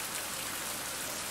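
Rainfall in the survival game Fountain of Youth, a quiet, even hiss of falling drops that continues without a break and with no voices over it.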